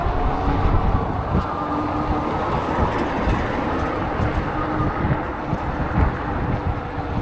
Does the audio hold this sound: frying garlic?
no